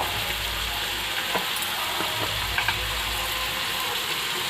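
Chicken pieces frying in hot oil in a home kitchen, a steady continuous sizzle with faint crackles and occasional small pops, no talking.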